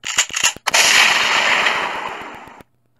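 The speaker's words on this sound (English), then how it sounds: "That's when a gunshot startled me out of my shocked state." A gunshot sound effect in a narrated night-time story, a gun fired into the air: a few quick sharp clicks, then one loud blast with a long, ringing decay that stops abruptly, with no talk.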